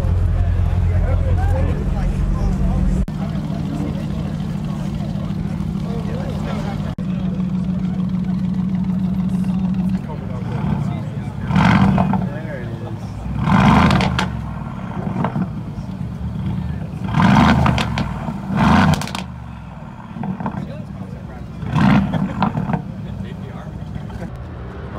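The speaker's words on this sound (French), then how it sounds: "On a eu la chance d'entendre des revs de la nouvelle Vantage." A new Aston Martin Vantage at a supercar gathering gives several sharp engine revs. The bursts rise and fall over a rumbling background, and voices talk nearby.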